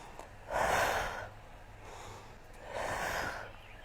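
Two audible breathy exhales during yoga sit-ups, each a broad rushing breath lasting about a second, close and moderately loud, with a quieter breath between them over a low steady hum.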